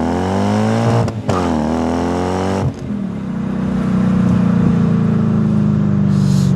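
Manual Lexus IS300 wagon with a swapped-in V8 pulls hard through short gears, its engine note climbing steadily in pitch, dropping briefly at shifts, then climbing again, loud and close from inside the car.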